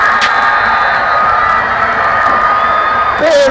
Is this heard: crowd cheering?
yes